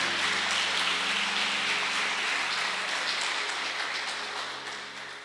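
A church congregation applauds in a soft, continuous patter like rain, holding evenly for several seconds and then gradually tapering off.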